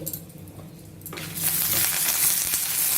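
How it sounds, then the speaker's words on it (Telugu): Dried red chillies, seeds and fresh curry leaves frying over a medium flame in a pan for a village-style peanut and raw mango chutney. A soft clatter, then a loud, steady sizzle bursts in partway and keeps going close up. "మీడియం ఫ్లేమ్లోనే ఇలా కలుపుకుంటూ వేయించుకోవాలి"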